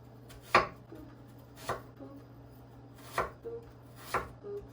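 A knife slices through apples on a cutting board for a vegan apple pie, making four crisp, separate chops spaced about a second apart, close and moderately loud, with no talking.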